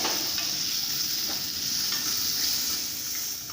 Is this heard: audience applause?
no